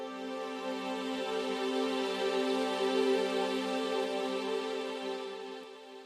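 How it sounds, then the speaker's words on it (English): Sustained orchestral strings from the Crow Hill Company Volt library hold a rich, steady chord for several seconds, swelling gently in the middle and tapering slightly at the end, with no voices. "So it's basically strings. I got strings from the Crow Hill Company, Volt."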